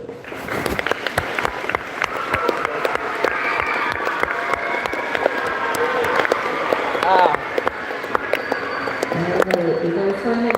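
An audience breaks into sustained clapping at a live event, many hands patting in a dense, irregular stream that swells and fades, with talking mixed in.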